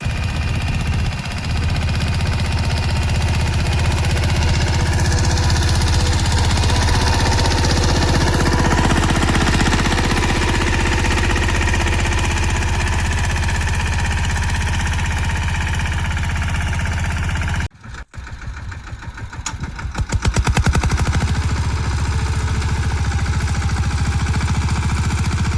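A tractor engine runs steadily while gathering crop residue on a farm field, a loud continuous mid-range drone with rattling vibration, briefly interrupted by a sharp drop near the end before the engine noise returns.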